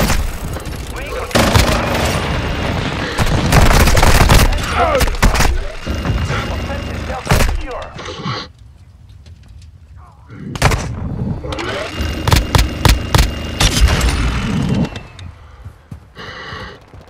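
Explosions from thrown grenades and bursts of gunfire in the video game Modern Warfare II, loud and chaotic in dense clusters with short lulls, with players talking over the action.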